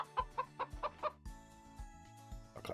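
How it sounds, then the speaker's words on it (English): A chicken in the video game ISLAND clucks in a quick series of five or six short, bright clucks, close and loud, then gives way to a tonal game music backdrop with a final cluck near the end. "A chicken."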